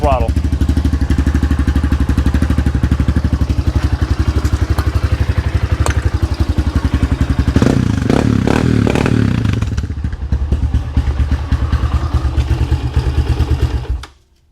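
A dirt bike engine revs hard at full throttle in a loud, steady, rapid-firing drone that surges briefly midway, then holds until it cuts out abruptly at the end.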